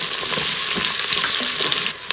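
Onions sizzling in a hot pan for masala dosa filling, a dense close frying hiss with occasional stirring scrapes, loud and steady before easing off near the end.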